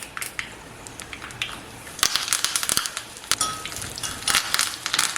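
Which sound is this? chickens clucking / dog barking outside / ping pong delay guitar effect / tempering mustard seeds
tempering mustard seeds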